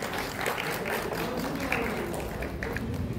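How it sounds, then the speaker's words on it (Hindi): Applause from an audience at a silver jubilee award ceremony, a continuous wash of many clapping hands at moderate loudness with a murmur of voices mixed in underneath. "दिल से जोरदार तालियां।"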